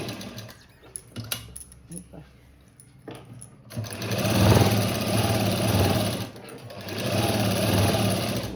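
A sewing machine stitches a square on a blouse, first in brief stop-start bursts under quiet movement, then running loud and steady in two long, near runs separated by a short pause.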